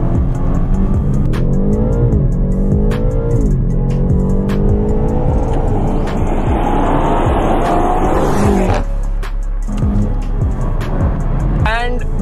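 A BMW M8 Coupe with a 600-horsepower twin-turbo V8 accelerates hard, its loud engine note climbing steadily through the gears with brief shift dips, under someone talking throughout.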